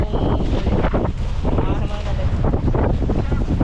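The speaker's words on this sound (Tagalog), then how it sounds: "malakas na talaga yung hangin" Strong wind roars and buffets the microphone continuously, with waves and voices mixed faintly underneath.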